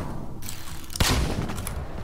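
Gunfire in the Warframe video game: a sharp burst of shots cracks out midway, followed by a rattling tail of rapid firing and softer background combat noise.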